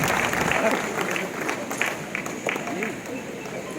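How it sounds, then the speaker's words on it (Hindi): A seated audience at a public speech claps for itself, producing a dense, steady patter of applause with crowd voices mixed in, fairly loud and continuous throughout. "एक बार अपने लिए तालियां बजाएं।"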